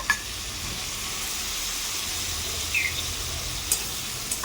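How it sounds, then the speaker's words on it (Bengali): Steady, soft sizzling of a ginger and cumin paste frying in a pan with softened spinach, continuous throughout with a few faint clicks. "আদা জিরে বাটাটা দিয়ে একটুখানি কষিয়ে নেব"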